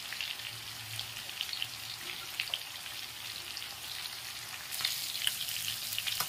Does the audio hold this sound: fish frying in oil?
yes